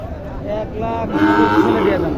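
Cattle moo at a Shahiwal bull and calf market, loud and close, with several drawn-out bellowing calls that overlap across the whole stretch.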